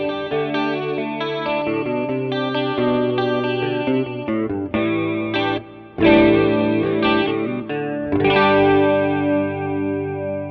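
An electric guitar runs through the chorus effect of a Nux Cerberus pedal set very wet, with a shimmering, swirling modulation over chords and single notes played loud and up front, no voice.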